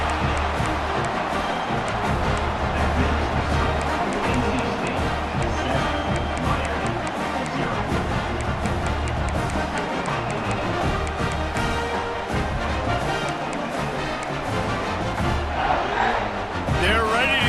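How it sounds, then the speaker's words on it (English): Loud, continuous crowd buzz in a packed stadium in EA Sports College Football 26 after a score, massed voices and cheering churning at an even level throughout, with commentary speech mixed faintly underneath. "this crowd is buzzing after that last score"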